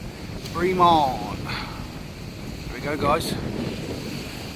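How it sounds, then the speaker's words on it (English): Strong wind buffets the microphone on a beach during night fishing for bream, a steady rushing roar with someone talking briefly over it. "Sorry about the wind"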